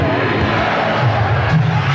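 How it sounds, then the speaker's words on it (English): A large crowd in a basketball arena during a 1996 NBA Finals game between the Seattle Supersonics and Chicago Bulls chants defense, a loud, dense roar with a rhythmic low pulse under steady babble. "Chant of defense with the crowd"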